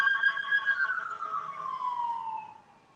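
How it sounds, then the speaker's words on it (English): A siren wails at a distance, its tone gliding slowly downward before fading out, with no voices. "the sirens and stuff. You know how loud it get out here"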